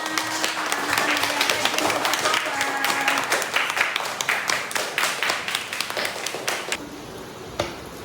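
Schoolchildren in an Indonesian elementary classroom clap their hands together on cue, a loose burst of many small hands with distinct sharp slaps, thinning toward the end, while a voice briefly carries over the clapping.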